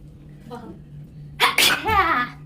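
A single sharp sneeze bursts out close and loud, set off by a fiery chilli tempering in dal, with a faint voice murmuring softly just before it.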